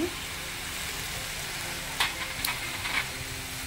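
Malabar spinach with salt and turmeric powder frying in a pan, a steady soft sizzle with a few scraping stirring strokes near the end, moderately quiet and close, no talking.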